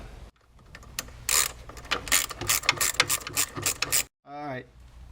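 A ratchet tightens throttle body bolts on a Land Rover Discovery, with rapid bursts of close clicking separated by short pauses, followed by a brief spoken voice at the end.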